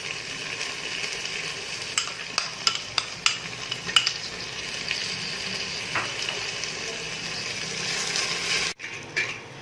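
Ginger garlic paste frying in ghee or oil for a mutton trotters curry, a steady close sizzle with scattered stirring clicks and scrapes of a utensil, ending abruptly.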